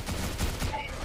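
A brief, dense burst of continuous automatic gunfire in the video game CrossFire, loud and unbroken for about a second.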